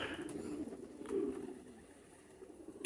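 Domestic pigeons coo nearby in a low, soft rolling call that rises twice, around the start and again near the middle, over quiet background.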